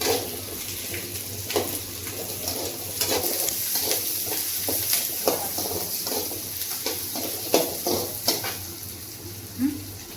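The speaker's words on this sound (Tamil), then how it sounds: "வெங்காயம் நல்லா வதங்கிடுச்சு" Onions sauté in a pan for a country chicken curry, giving a steady soft sizzle with scattered scraping stirs of a spoon against the pan.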